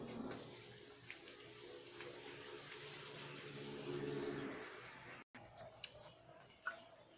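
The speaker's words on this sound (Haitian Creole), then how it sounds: "juste ajouter un petit de l'eau là-dedans pour être capable de faire sauce là" Water is poured into a pot of callaloo sauce with a continuous close splashing, running sound. It breaks off briefly near the end before a few scattered clicks and knocks.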